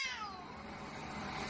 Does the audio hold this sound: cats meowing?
yes